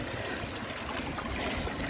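A clear roadside stream near Minowa Dam in Japan runs with a soft, continuous trickle and gurgle, faint and steady, without voices.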